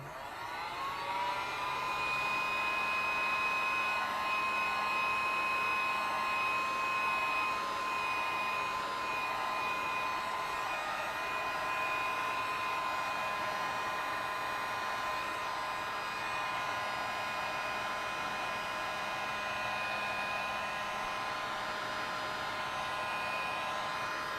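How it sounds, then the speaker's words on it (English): Heat gun blowing hot air over a paper collage, a steady high-pitched whirring hum with a constant airy rush, close and continuous for over twenty seconds without talk. "Let me hit this with a heat gun."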